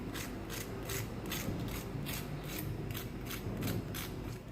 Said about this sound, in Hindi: मैं इनकी आवाज़ भी आपको सुनाती हूँ कि कितने क्रिस्पी बने हैं।